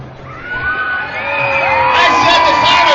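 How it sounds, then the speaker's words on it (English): A big crowd at a monster truck show in Victorville, California screams, whoops and cheers, the roar swelling louder and fuller over a few seconds with many overlapping voices. "When Bruce hits the final jump, everybody scream"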